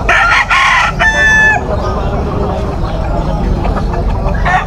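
A Sweater gamefowl rooster crows loudly at close range in a busy pet market, giving one strong drawn-out cock-a-doodle-doo over steady crowd noise and other clucking chickens.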